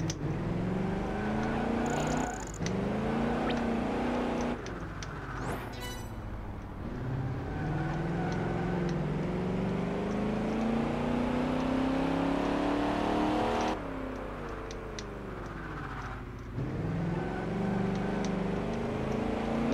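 A race car engine in Project Gotham Racing 4 revs hard through long gears, rising in pitch, dropping at each shift and climbing again, loud and close throughout with a few brief squeals.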